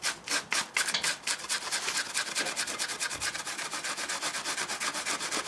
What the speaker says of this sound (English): With the metal surface you rub down through the ripples and you expose the different layers.